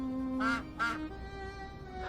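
Ducks quack in two distinct nasal bursts close together, then a third begins at the end, fairly faint over a quiet background with a low steady tone underneath.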